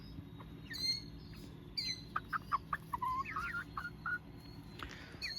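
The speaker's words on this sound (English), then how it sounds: "So this is our chicken run." Hens clucking and calling in a backyard chicken run, a series of short squawks and bright chirps, fairly close, over a low steady hum.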